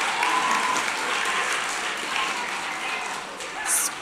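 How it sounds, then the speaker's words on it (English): Audience applause at a teen press conference celebrating books, a steady broadband clapping wash from a large crowd that holds evenly for several seconds and swells slightly near the end. "we can have applause for books"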